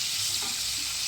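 Capsicum and green chilies frying in oil in a pan, giving a steady, close crackling sizzle that holds evenly for a brief moment with no talking.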